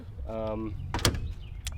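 Original doors of a converted school bus, welded into a single door with a doorknob, give a short mechanical whine and then a sharp clunk and rattle as they shut, with a voice speaking faintly.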